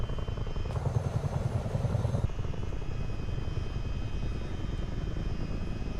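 A Chinook tandem-rotor helicopter in Microsoft Flight Simulator 2024 gives a constant turbine whine and rotor thrum, loud and close, with a brief shift in tone early on.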